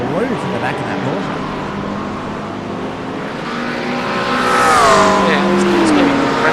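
GT3 race cars, a Porsche among them, roar around Watkins Glen in sim racing, their engines droning steadily and then swelling into a rising, revving pass near the end under excited commentary.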